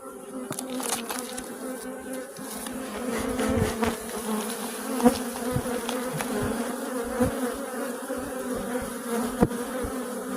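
A steady, dense hum of many honeybees buzzing close by, with individual bees droning louder as they pass near.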